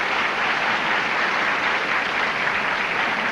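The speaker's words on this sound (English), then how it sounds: "Rather weak applause, I would say." Game-show studio audience applause, a steady wash of clapping that holds at an even level for a few seconds with no talking over it.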